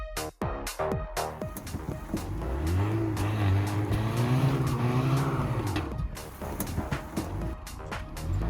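Car tires screech in a long skid during a brake test after a novice's brake job, a loud rising squeal over engine noise, with clicks and knocks before and after.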